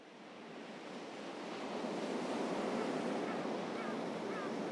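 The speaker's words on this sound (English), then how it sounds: "Listen to those waves." Ocean surf rolls in along a stretch of coast in Japan, a steady broadband wash that swells louder after the first couple of seconds, with light wind and no voices.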